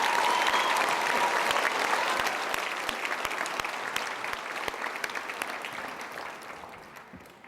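Applause from parents, relatives and staff at the Humboldt High School class of 2018 graduation, a steady wash of many clapping hands that stays loud throughout and slowly eases toward the end.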